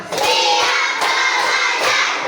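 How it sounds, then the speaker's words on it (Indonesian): A classroom of children claps together in a counted clapping routine led by a teacher, a loud, even burst of group hand claps with faint voices mixed into the noise. "Tepuk satu. Tepuk dua. Tepuk tiga. Tepuk empat. Tepuk lima."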